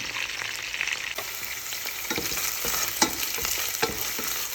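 Onions frying in a pan produce a dense, even sizzle close by, broken by a few stirring knocks and scrapes, with no speech over it.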